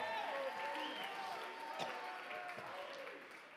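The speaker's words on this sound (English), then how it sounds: "Clap your hands, all ye people." A church congregation at a night revival meeting in Lancaster, Pennsylvania claps and cheers together, a crowd of hands mixed with voices and a preacher talking over the sustained applause.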